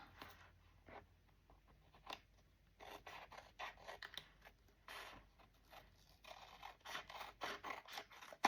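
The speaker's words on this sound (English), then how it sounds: "All right, we're going to cut this out." Scissors snip through manila envelope paper for a DIY junk journal, a quiet, close series of irregular cuts and rustling paper strokes with no speech.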